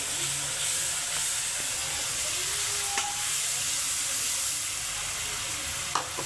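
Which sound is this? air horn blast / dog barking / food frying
food frying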